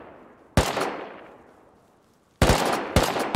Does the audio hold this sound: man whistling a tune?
no